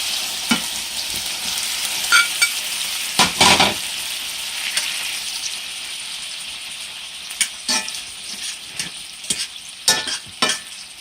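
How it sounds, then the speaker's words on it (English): Onions sizzle in a pan with a quarter cup of balsamic vinegar, a steady frying hiss broken by sharp clatters and scrapes of stirring, close and loud, with no talking. "Now we're going to take our balsamic vinegar, 1/4 cup, and dump it right in the pan. And we're going to put our onions in here."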